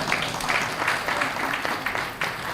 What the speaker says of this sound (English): Somebody's clapping.